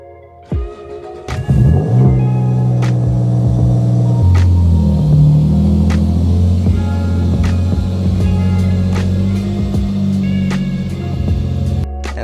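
An Infiniti G35 set up partway for drifting starts with a sharp catch, then settles into a loud, steady, deep idling rumble with a low hum that holds throughout, alone with no voices.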